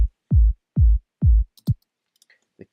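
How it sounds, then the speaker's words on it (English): Four deep, booming kick drum sub-bass hits in an even rhythm from a dance music production, each with a pitch drop, followed by a shorter hit and a few faint clicks. "The main sub of the kick comes from a different sample, and that sounds like this."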